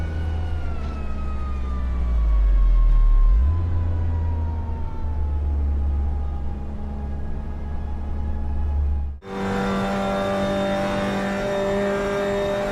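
A race car engine drones loudly in a racing simulator lap at Mosport (Canadian Tire Motorsport Park), pitch falling and rising through gear changes with an abrupt shift near the end, no talking.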